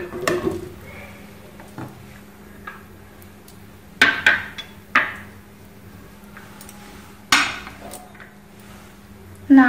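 A rajma paratha is laid on a heated pan and flipped, giving several sharp, close clanks and knocks scattered over quiet, low background noise.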